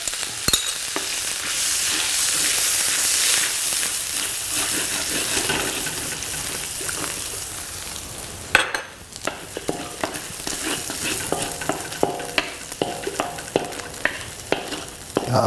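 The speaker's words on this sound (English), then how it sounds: "And now I'm going to fry up the eggs." Eggs fry in a hot pan for shrimp fried rice, a steady loud sizzle throughout, joined in the second half by repeated clinks and scrapes of a utensil stirring against the pan.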